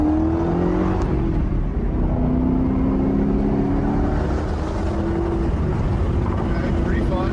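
A 2005 Ford GT accelerates on the highway with a window slightly open. The engine drone is loud and steady and climbs in pitch, with wind roar underneath.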